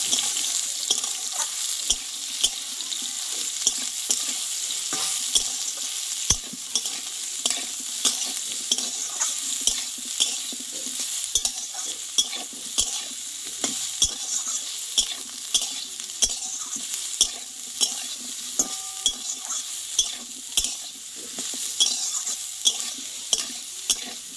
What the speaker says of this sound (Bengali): আর এইখানে ভিজে রাখা সোয়াবিনটাও আমি আলুর সঙ্গে একটু কষে নেব।